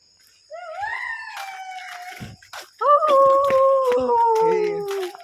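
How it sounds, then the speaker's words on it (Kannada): Several dogs howl together at night beside a road in long, wavering cries, one rising and then a louder chorus joining, with a few short barks mixed in. "ನಾಯಿಗಳೆಲ್ಲ ಸೌಂಡ್ ಮಾಡ್ತಾ ಇದ್ದೀವಿ"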